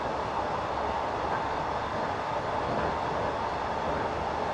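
A London Underground S7 train in a Metropolitan Line simulator on the Uxbridge route, running at speed with a steady broadband rumble and rushing roar that holds even and unbroken throughout.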